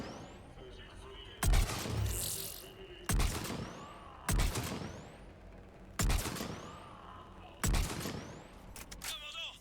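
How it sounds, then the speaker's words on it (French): Mortar fire in the video game Mass Effect 3, five heavy booming impacts spaced a second or two apart over a low ambient background, with talk between blasts. "subissons nombreux tirs de mortier"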